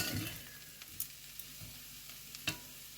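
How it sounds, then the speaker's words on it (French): Vegetables fry quietly in a pan for coconut beans, a soft steady sizzle broken by a few sharp ticks and scrapes from stirring, faint and close. "je laisse mes légumes prendre un petit peu de couleur, de griller"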